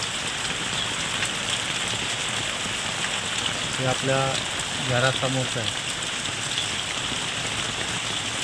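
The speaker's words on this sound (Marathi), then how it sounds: "तुम्ही बघू शकता पावसानं विश्रांती घ्यायला तयार नाही पूर्ण पाऊस" Heavy monsoon rain pours steadily outside a house, a dense continuous hiss throughout, with a person speaking briefly over it midway.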